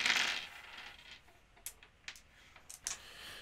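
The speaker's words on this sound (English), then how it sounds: "I told you the session was going to start with a dice roll." Dice rolled for tabletop role-playing saving throws, with a soft rattle followed by several sharp, separate clicks and taps spread over a few seconds, close and fairly quiet.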